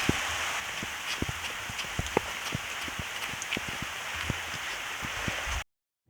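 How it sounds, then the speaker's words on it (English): Steady rain falls across an outdoor field during a competition match, a dense wash of hiss dotted with scattered sharp drop impacts, close and continuous until it cuts off near the end. "if you can't already tell, it's been raining"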